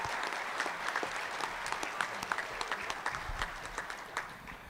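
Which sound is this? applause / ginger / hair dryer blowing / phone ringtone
applause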